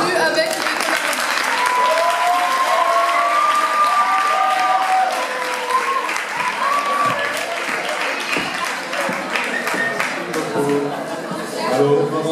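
Audience applause fills a hall during a French lycée event on science and innovation, steady broadband clapping throughout with voices and some chatter mixed in.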